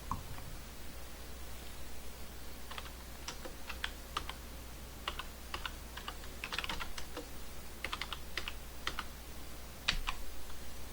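Fingers tap on a smartphone's on-screen keyboard while editing text in a video editing app, producing scattered soft clicks in short irregular bursts against a quiet room hum, with no speech.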